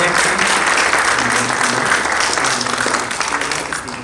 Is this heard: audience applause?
yes